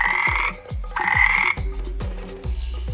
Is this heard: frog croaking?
yes